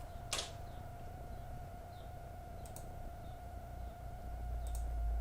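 A single sharp computer mouse click for saving a file, close and brief, followed by a couple of fainter clicks over a steady background hum.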